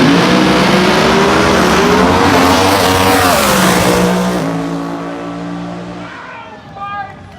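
A big block, screw-blown, injected drag race car running on alcohol thunders past at a supercharged meet, loud and sustained with shifting engine pitch, then fades as it pulls away, while an announcer talks over it.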